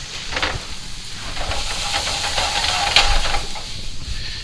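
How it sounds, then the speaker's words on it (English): Onions and paprika sweating in a pan for beef stroganoff, a continuous close hissing sizzle with soft stirring scrapes and a faint tonal whine, no voices. "we'll do that while we're sweating down the onions"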